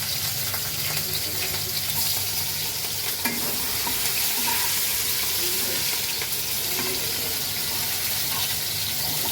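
Garlic, crushed coriander, ginger and green chillies sizzling in hot oil for a tempering, a steady close crackle with occasional stirring clinks and scrapes, no voices.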